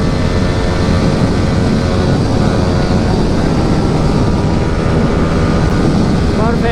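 A Yamaha R15 V3 motorcycle fitted with an Akrapovic R9 exhaust accelerates in fifth gear on a highway, giving a loud, close, steady engine drone that climbs slightly in pitch toward the end.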